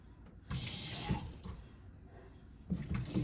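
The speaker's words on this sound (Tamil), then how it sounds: "ஒரு கொஞ்சமாக பச்சை தண்ணி ஊற்றிக்கொள்கிறேன்." Cold water poured into flour dough for kozhukattai, a soft splashing pour in two short bursts separated by a quieter pause, faint and close.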